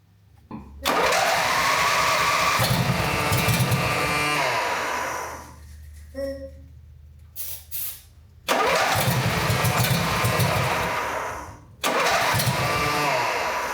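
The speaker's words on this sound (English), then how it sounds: "The engine will start up on ether" An engine cranks on ether and roars to life loudly, runs briefly, dies down with a few sputters, then fires up again twice in bursts.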